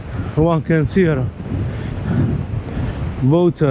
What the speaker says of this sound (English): the wind and the waves are hitting that side of the area